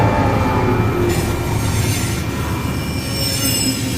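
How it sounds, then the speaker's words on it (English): A train rolls past loudly and close at a level crossing in Poland, its wheels screeching and grinding against the rails in a continuous metallic roar. "waiting for a train to pass"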